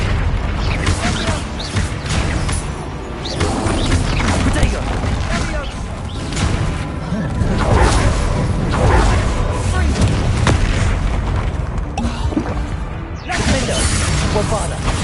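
Spell explosions from Confringo and Bombarda blasts in the Hogwarts Legacy video game, a dense run of booming crashes and smashes layered over battle noise and shouted voices, loud and continuous.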